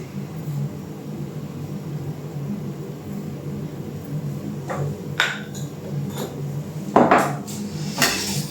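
Meat is mixed with salt and sugar in a bowl for kabanos sausages, giving a quiet steady background with a few sharp clinks and scrapes of a utensil against the dish toward the end.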